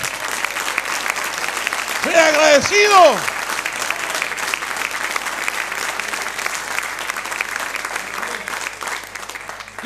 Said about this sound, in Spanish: Aplauda con ánimo, hermano.